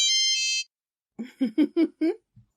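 Phone rings briefly with a bright electronic tone, then a quick series of short, close beeping pulses, fairly loud against silence.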